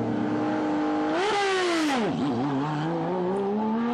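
A Porsche rally car accelerates hard along a stage of the East Belgian Rally, its engine climbing through gears with a rising pitch, a sharp upshift dip mid-run, then revving again, moderately distant and clear with no voices.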